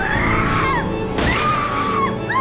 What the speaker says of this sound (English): smashes the window with a hammer and climbs in